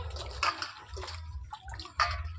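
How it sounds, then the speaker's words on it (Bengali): Cut raw green mangoes being washed in water for pickle, with a few splashes and sloshes over a low steady hum, fairly quiet and close. "ধুয়ে জল থেকে নিগড়ে নেব"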